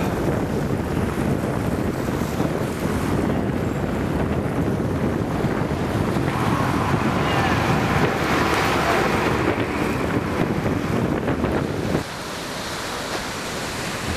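A boat crosses open water in Torres del Paine, Patagonia, with steady engine and hull noise, splashing waves and heavy wind buffeting the microphone throughout.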